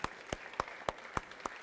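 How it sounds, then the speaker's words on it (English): Guests at a Hindu Vivaha wedding ceremony clap for the proud father: six sharp, evenly spaced claps in a slow, steady rhythm, fairly close and moderately loud over quiet room tone. "a big round of applause"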